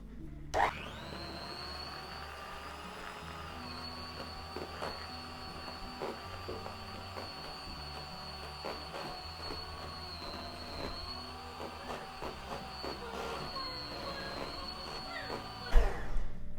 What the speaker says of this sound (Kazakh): Енді жақсылап қою крем болғанша миксерлеймін.